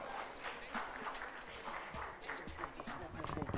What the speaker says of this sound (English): Another round of applause for our CEO